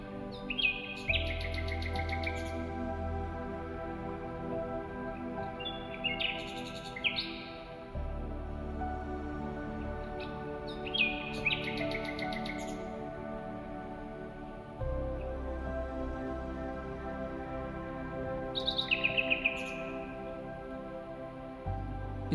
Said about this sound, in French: Invisible dans la nuit, le rossignol chante sans relâche.